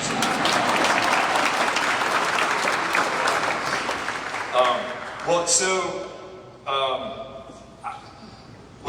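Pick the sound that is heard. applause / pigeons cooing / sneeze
applause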